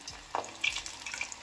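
Bread cheese balls slipping into hot oil give a soft, close-up frying sizzle, lifting into a brighter hiss after a small splash and carrying a few faint crackles through the short stretch, with no voices.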